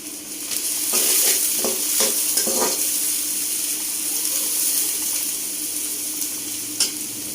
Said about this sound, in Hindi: ये प्याज फ्राई हो रहे हैं।